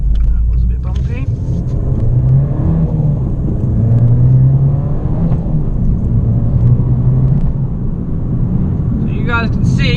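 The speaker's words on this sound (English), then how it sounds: "A lot of pops and bangs from the exhaust, and in sport mode it is absolutely raring to go." Abarth 595 Trofeo hot hatch accelerating hard in sport mode, its engine rumbling and revving up steadily with exhaust crackle close by, while someone talks over it.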